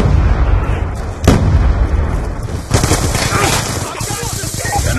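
A frag grenade explosion in the shooter game Black Ops 2 during a Domination match, a sharp loud blast amid ongoing close gunfire and battle noise, with game voices calling out over the action.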